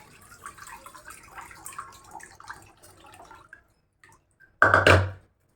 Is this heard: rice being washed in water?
yes